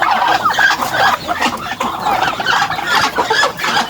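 Free-roaming farm chickens cluck continuously nearby, a dense overlapping chorus of clucks and chatter from the flock, loud and steady without pause.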